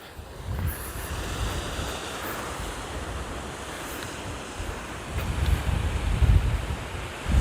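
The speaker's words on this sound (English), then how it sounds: "There's the waterfall." Rushing water from a hidden waterfall near Cape Town, a steady broadband roar heard from a distance outdoors, swelling louder toward the end with some wind buffeting the microphone.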